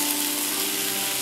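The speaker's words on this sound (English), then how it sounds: "Now add eggplant. Mix it." Vegetable curry frying in a pan as eggplant is mixed in, a steady, loud, dense hiss of sizzling oil with no clear breaks, close up and with no voices.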